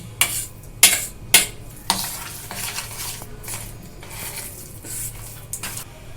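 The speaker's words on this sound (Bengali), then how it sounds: "ছোলা সেদ্ধ পেস্টের মধ্যে সমস্ত মশলা মিশিয়ে ভালো করে মিশিয়ে নিয়েছি" Spices are mixed into boiled chickpea paste in a pot, opening with a few sharp clinks of a utensil against the vessel, then softer scraping and stirring that carries on at close range.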